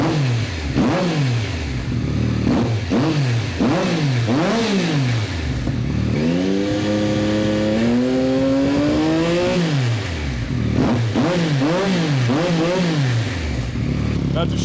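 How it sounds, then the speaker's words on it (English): A Yamaha R9 motorcycle fitted with an Akrapovic exhaust is blipped repeatedly, sharp rising-and-falling revs followed by one longer held climb, then more quick blips, loud and close. "Let's give her a couple revs."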